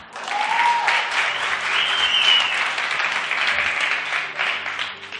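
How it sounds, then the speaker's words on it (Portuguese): Congregation applauding a woman named Graça during a church sermon, dense sustained clapping filling the hall for several seconds at steady loudness, with a couple of faint whistles or cheers rising above it. "Salva de palmas para a Graça, gente."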